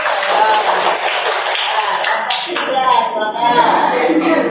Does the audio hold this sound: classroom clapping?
yes